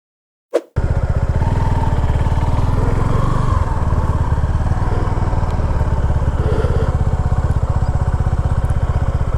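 A motorcycle engine starts and keeps running loud and close, a steady fast low throb with no talk over it.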